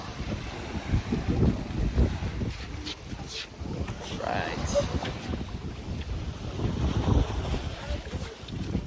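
Boat motor rumble and wind buffeting the microphone out on open water among the Hundred Islands of Alaminos, Pangasinan, steady and close, with a voice briefly speaking.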